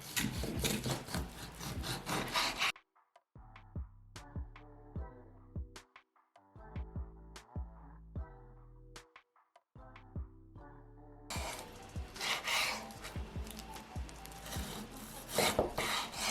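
A knife slicing bacon into strips and then small cubes on a board, heard as close, sharp repeated cuts and taps, with pauses of near silence between bursts of chopping.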